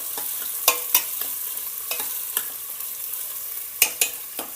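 Onion and other ingredients for methi khichdi are stirred and lightly fried, with scattered scraping strokes and sharp clicks of a spoon against the pan over a soft, steady sizzle, close up and without speech.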